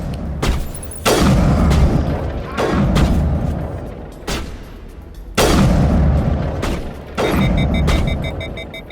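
Loud rifle shots in the video game Mass Effect, about eight heavy booming reports fired at irregular intervals, each trailing off in a long echoing decay.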